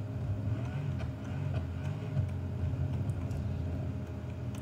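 A drag car engine in BeamNG.drive holds a steady, low, rumbling drone with a slight wavering, fairly quiet and with no voice over it.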